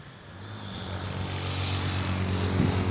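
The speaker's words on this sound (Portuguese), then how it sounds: "Vou começar a baixar um pouco o drone aqui." A DJI Mini 3 Pro drone fitted with carbon-fibre propellers flies over the Serra do Mar, giving a steady, airy buzzing drone of spinning props that swells slightly louder toward the end, with no talking.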